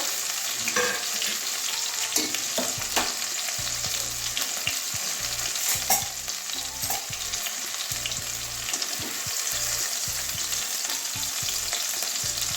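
Eggs sizzle in hot oil with a continuous crackle, close by, broken by occasional scrapes and taps of a spatula stirring in the pan.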